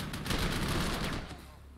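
Heavy gunfire from the Panzer Corps 2 war strategy game, a fairly quiet crackling burst of volleys that fades away toward the end.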